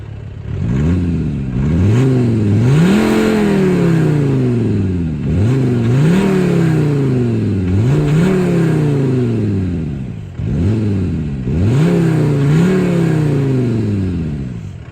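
A 2019 Škoda Kodiaq RS SUV in sport mode revs hard under full throttle, its engine note climbing repeatedly through the gears in loud, close, rising sweeps with brief dips at each shift.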